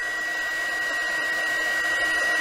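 A KAIWEETS KEH01 mini hot air gun runs its fan below top speed while desoldering a resistor, making a steady, loud whooshing blow with a thin high whine throughout and no talking.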